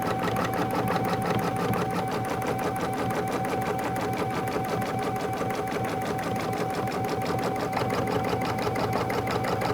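An embroidery sewing machine tacks down a quilt pocket inside the quilting stitch. It runs as a fast, steady, mechanical needle chatter with a constant whine, close and continuous for the whole stretch, with no talking.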